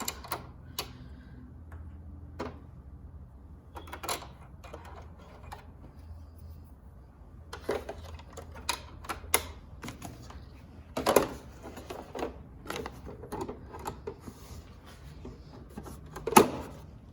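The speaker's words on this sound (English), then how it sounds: "I'm gonna change my bobbin because this one's almost out." Bobbin being changed on a Brother embroidery machine: scattered small plastic clicks, taps and snaps spread irregularly through quiet pauses, close by, with a louder clack near the end.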